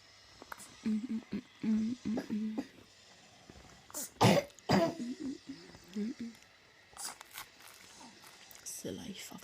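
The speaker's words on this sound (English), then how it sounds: "coughing my guts up all day" Coughing from people who spent the day out in the freezing cold ice skating, with a burst of harsh coughs mid-way amid close-up talk and rustling clothing.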